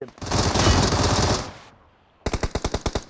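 Gunfire in the mobile shooter PUBG Mobile: a loud continuous burst of automatic fire, a brief pause, then a rapid run of about eight distinct sharp shots.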